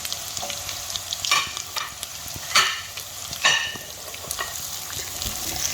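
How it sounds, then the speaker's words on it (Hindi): Baby corn and mixed vegetables frying for seafood chop suey, a steady oil sizzle broken by several louder bursts as the pan is stirred and tossed, with no talking. "और साथ ही बेबी कॉर्न भी डाल देंगे। और इनको अच्छी तरह फ्राई करेंगे।"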